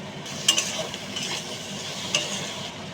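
Ginger-garlic paste with chopped tomato is stirred in a hot pan, a low sizzle under two crisp spoon clinks against the metal.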